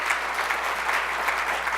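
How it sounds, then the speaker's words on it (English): A breakfast gathering applauds a teacher with steady, even clapping from a large room, unbroken and fairly loud throughout. "Give her a round of applause"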